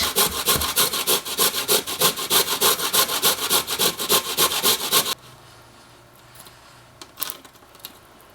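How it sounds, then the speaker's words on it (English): A carrot rubbed against a small grater in quick, even rhythmic rasping strokes, close and fairly loud for about five seconds, then stopping into near quiet with a few faint clinks. "we're just going to use the small grater because then the carrot is less noticeable and loses some more of its moisture during grating"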